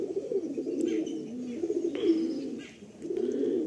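A Madrasi pigeon coos in low, repeated rolling calls, close and clear, with a brief faint chirp and soft rustling between phrases and no voices.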